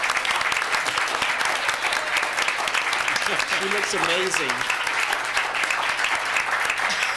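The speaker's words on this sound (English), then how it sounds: "So can we give her a round of applause?" Audience applause at a city council meeting honoring a woman's 100th birthday, steady dense clapping throughout with a brief remark spoken over it.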